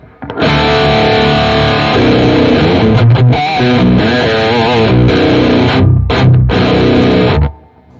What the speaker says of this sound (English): So here's the basic sound of the guitar in channel 2.